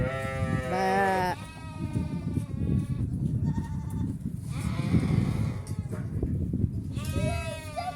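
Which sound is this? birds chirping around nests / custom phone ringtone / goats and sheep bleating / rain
goats and sheep bleating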